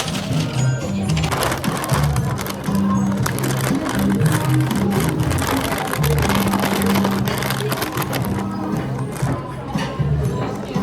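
A car driving home on a sunny day in Kyiv, its steady engine and road rumble filling the cabin continuously with some low tonal hum and occasional knocks.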